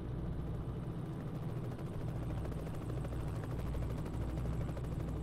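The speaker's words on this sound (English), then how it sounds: "Got a bloody helicopter flying overhead as well" Helicopter flying overhead in the Scania Truck Driving Simulator video game, a faint steady rotor chop over a low engine drone, continuous and distant.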